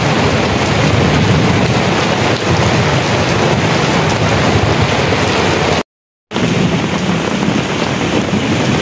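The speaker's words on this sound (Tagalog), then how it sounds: "Ang lakas pa rin ng ulan." Loud, dense downpour of heavy rain, close and constant, broken by one brief moment of silence.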